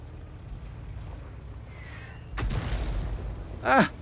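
A tank autoloader gun fires in a tank video game, one sharp booming report cutting through low engine rumble, followed by a shorter distinct burst near the end.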